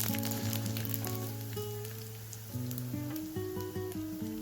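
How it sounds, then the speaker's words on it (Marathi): Sago poha frying in hot oil for a fasting chivda, a steady sizzle running throughout under a sustained tonal hum with no talking. "तर अजून थोडे तळून घेते."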